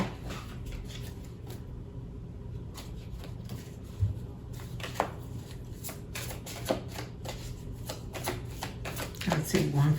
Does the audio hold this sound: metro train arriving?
no